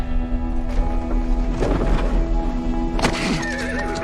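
Horse neighing in a film scene, a loud whinny rising over a busy mix of hoofbeats and score, with a second sharper cry near the end.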